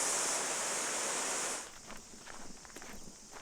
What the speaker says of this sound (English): This is the Kakahi Falls.